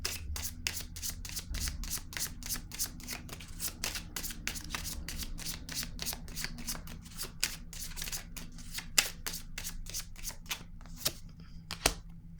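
Playing cards are riffled and handled in a steady run of crisp, rapid flicks and snaps, close and fairly quiet, with no talking.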